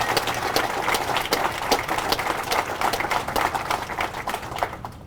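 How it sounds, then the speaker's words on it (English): Audience applause at a groundbreaking ceremony for the West Side Market, a steady patter of many hands clapping outdoors, moderately loud and tapering off at the end. "So please give her a round of applause."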